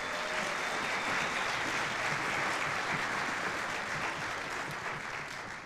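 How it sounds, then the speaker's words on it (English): Steady, dense applause from an orchestra concert audience, a full crowd clapping continuously and fairly loudly for several seconds before easing slightly at the end. "About a round of applause for our boosters one more time."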